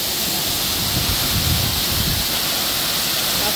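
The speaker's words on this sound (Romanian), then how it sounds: "Cascada care face masaj la spate." A waterfall in northern Bali pours with a steady, broad rushing roar, loud and close, unbroken throughout with no voices.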